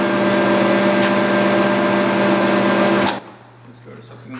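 A Nardini Mascote 14 x 40 inch geared head lathe running at 500 RPM gives a steady, loud mechanical whine and hum for about three seconds, then cuts off abruptly into near silence.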